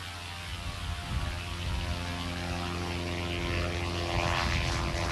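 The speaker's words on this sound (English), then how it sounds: "The VJ22 Sportsman leaves the ground quickly and climbs at 550 feet per minute." A Volmer VJ22 Sportsman amphibian plane takes off and climbs, its propeller engine droning steadily at a moderate distance, with a continuous hum and no talking.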